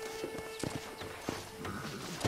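Horse hooves in Red Dead Redemption on PC, a quick rhythmic clip-clop of a riding horse, fairly faint and close, with a short whinny-like tone mixed in.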